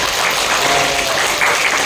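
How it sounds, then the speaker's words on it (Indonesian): Brief, loud, dense clapping from a school audience in Ternate, a continuous wash of applause filling the whole short moment with no clear voices. "Tepuk tangan dong"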